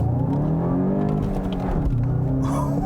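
Volkswagen GTI Mark 8 with manual transmission driven hard on a track, a steady loud engine drone with rising and falling revs throughout, close and continuous with no talk.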